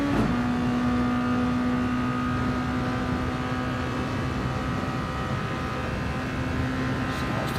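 Race cars in a Red Bull Juniors round at St Croix sweep through an elbow corner, a steady, dense engine drone holding at constant loudness throughout with no voices.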